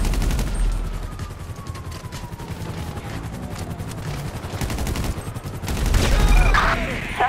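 Gunfire in Grand Theft Auto near Los Santos International Airport, sustained rapid automatic bursts rattling throughout, with a louder, heavier flurry near the end and faint radio-style chatter underneath.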